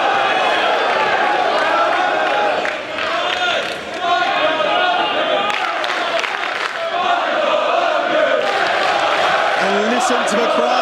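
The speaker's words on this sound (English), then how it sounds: "Listen to the crowd now, still split as to who they want to win this contest." A wrestling crowd at a RevPro championship match cheers and roars loudly throughout, with whoops and chants swelling over a commentator's voice.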